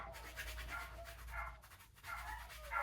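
Several dogs bark and howl at a distance, the sounds quiet and broken into irregular bursts with short pauses between them, and no one speaks.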